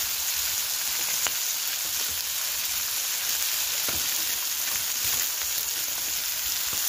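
Green peas frying in a pan with ground coriander make a close, continuous hiss of sizzling oil with faint stir taps now and then, and no voices.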